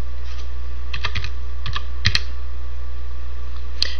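Keys clicking on a computer keyboard in a few sparse clusters of light taps with pauses between, close and clear over a steady low hum, no voices.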